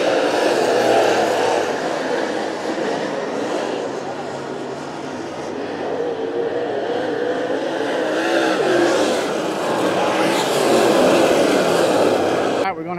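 Race cars running a double file restart at Delaware, with a steady, loud engine roar that swells and fades as the field passes, a commentator talking throughout.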